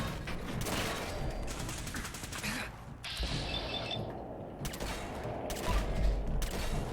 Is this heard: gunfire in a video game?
yes